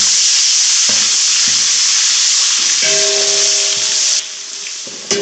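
Steady loud sizzling of garlic and ginger frying in hot oil for Afghani pulao, with occasional stirring clatter and a faint tonal hum partway through.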